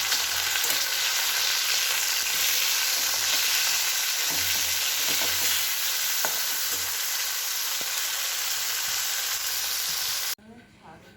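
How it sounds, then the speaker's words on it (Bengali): Shrimp sizzle steadily in a hot pan of oil with occasional scraping stirs of a spatula, loud and continuous before cutting off abruptly near the end. "ভাজা করে নিয়ে করে নিয়ে চিংড়ি মাছটা করবো"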